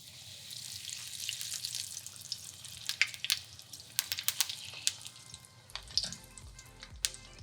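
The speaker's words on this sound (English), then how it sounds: "we already have our oil heated at around 330 degrees to 350 degrees. And let's start adding about 3 to 5 sesame balls at a time" Chinese sesame balls frying in oil heated to around 330 to 350 degrees, three to five at a time, a bright continuous sizzle with sharp pops and crackles scattered throughout, close and fairly loud.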